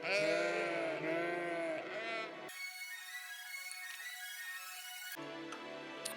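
Sheep bleating on farmland in a city-building game, loud wavering bleats up close followed by a steady synthetic tone, then more bleating.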